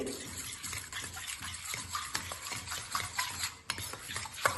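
An egg mixture with green chilli, curry leaves, pepper and salt is stirred in a bowl, soft repeated scraping and sloshing strokes at close range, quiet and irregular.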